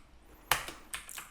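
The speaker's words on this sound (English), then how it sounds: "I'm simply going to just edit by pressing F2 and typing in vials" Keys tapped on a computer keyboard while editing a spreadsheet, a few quiet, sharp clicks spaced unevenly over a second, close and soft with no talking.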